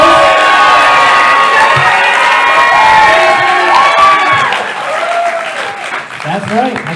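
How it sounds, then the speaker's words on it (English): Loud audience applause with cheers and whoops after a stand-up comedy moment, a dense roar that swells then tapers slightly, with shouting voices mixed in. "Let's give a round of applause."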